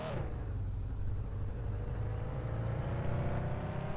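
Car engine in a car dealership simulator video game during a race, a steady low droning rumble that holds evenly at a faint level with no talking.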